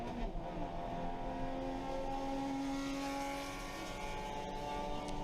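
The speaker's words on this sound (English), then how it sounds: "Let's listen to it go by." A race car engine roars steadily at a distance, its pitch rising and falling slightly as it drives past, with no talking.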